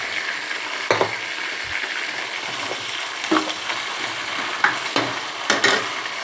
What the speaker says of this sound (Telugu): ఇలాంటి పెద్దది వెడల్పు పాత్ర పెట్టుకుంటే బాగుంటుంది. ఇలా వేపుకుంటున్నాను నేను.